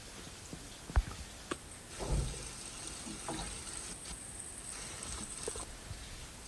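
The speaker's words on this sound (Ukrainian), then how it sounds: "Поки жариться, смажиться в мене цибулька з моркою до салату" Onion and carrot sizzle quietly in a pan with a steady fizzing hiss, broken by a few clinks and scraping stirs nearby.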